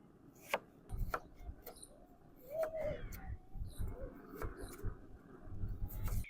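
Potatoes are chopped with a knife for crispy street-food chips, irregular sharp knocks on a board spaced over several seconds, close and moderately quiet.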